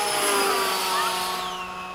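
A radio-controlled HSD F-16 model jet flying past outdoors with a steady, loud turbine-like whine that shifts slightly in pitch as it passes, no talking.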